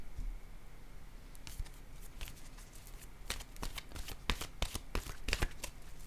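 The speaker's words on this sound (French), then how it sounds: "Je vais piger maintenant une carte de mon oracle de l'âme intuitive." Oracle cards are shuffled and drawn with quick papery riffles and flutters that build into dense bursts of card slaps, close and fairly soft.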